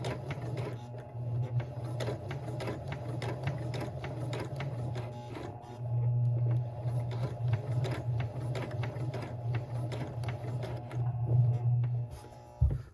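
A Kenmore 385 sewing machine stitches a blind hem, its needle mechanism chattering in a fast, steady mechanical rhythm close up, with a low motor hum that swells and eases as the sewing speed changes.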